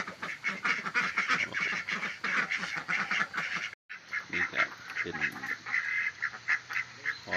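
Laying ducks on a duck farm in the morning give a loud, close, crowded chorus of overlapping quacks and honks that keeps going, broken only by a brief cut midway.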